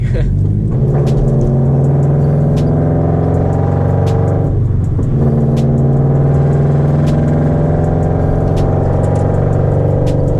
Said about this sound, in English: It's one of my like favorite sounding exhausts ever.